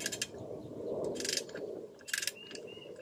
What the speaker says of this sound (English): So I've set my torque wrench for 40 foot-pounds.